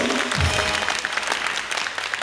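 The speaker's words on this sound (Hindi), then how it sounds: "ऑडियंस की तालियां डिसाइड करेंगी।" A studio audience at a Pakistani talk show claps steadily for about two seconds, a dense, continuous wash of applause with a low drum thump near the start and no voices.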